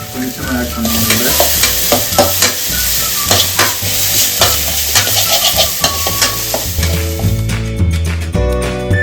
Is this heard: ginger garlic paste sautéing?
yes